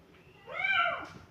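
A cat gives a single short, rising-then-falling meow, close and clear against a quiet background.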